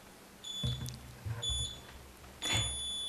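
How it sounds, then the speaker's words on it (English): Three electronic beeps sound in a quiet meeting room ahead of a recording start, each a steady high tone, the first two close together and the third after a pause, fairly clear over faint room hum. "You'll get the 3 beeps here in a second."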